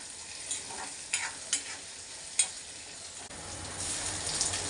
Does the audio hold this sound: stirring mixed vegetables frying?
yes